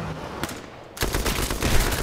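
A burst of automatic gunfire in the video game H1Z1, quiet at first and then a loud, dense rapid-fire spray that continues to the end.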